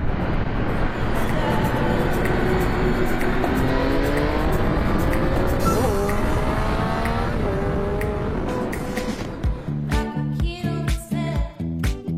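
A 2018 Triumph Speed Triple RS motorcycle rides along on cold tires, its engine droning steadily with rising and falling pitch as it revs through gears, loud and close, then easing off into rougher, choppier sound near the end.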